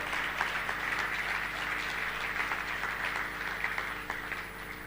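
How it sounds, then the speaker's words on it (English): Conference audience applauding the original founders of Hack Cyprus, a steady wash of many hands clapping at moderate distance, sustained and even throughout with no speech over it. "Can I get a round of applause for them?"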